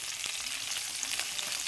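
Onions and green chillies frying in hot oil in a pan, a steady bright sizzle with faint crackles running throughout, close and continuous with no voices.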